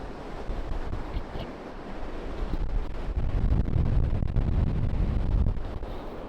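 Blustery wind and surf on a UK beach at low tide in autumn, a steady, moderately faint wash of breaking waves with wind gusts, building slightly louder midway through.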